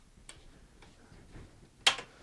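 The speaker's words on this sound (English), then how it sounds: "that ticking that you're hearing is just the steel clicking on these threads" Steel bending slats clicking against threaded rods while acoustic guitar sides are bent: a few sparse, faint ticks spaced across the clip, ending with one sharper, louder click near the end.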